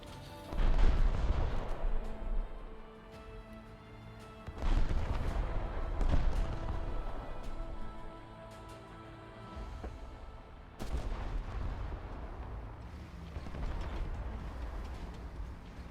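Tank cannon shots in the War Thunder video game, three heavy booms spaced several seconds apart, each followed by a long rumbling decay.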